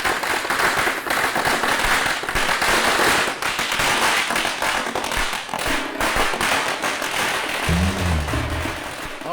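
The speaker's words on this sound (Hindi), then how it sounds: "पटाखे जलाओ।" Firecrackers are set off in a dense, continuous volley of sharp cracks and pops, loud and sustained throughout.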